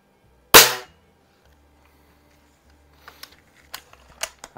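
Anschutz model 335 break barrel air rifle firing once, a sharp loud crack followed by quiet, then a handful of small clicks and mechanical ticks.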